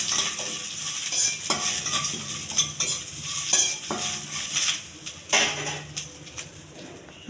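Cumin, mustard seeds and dried chili frying in oil for a tempering, a loud continuous sizzle with crackles and popping, and a spoon stirring and knocking against the pan.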